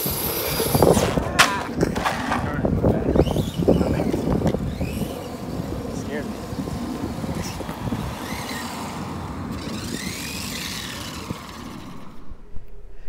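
A Redcat Racing Everest 10 RC car with a brushless motor and 32 pitch gears runs outdoors, its motor whining and revving in bursts with crunching wheel noise, loud at first and then fading.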